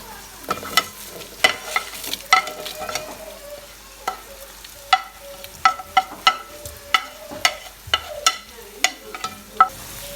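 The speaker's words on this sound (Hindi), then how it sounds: "मसाले भून रहे हैं।" Spices for mutton yakhni pulao stir-fried in a pot, with a steady sizzle cut by frequent sharp spatula scrapes and knocks against the metal in an uneven rhythm, close and fairly loud.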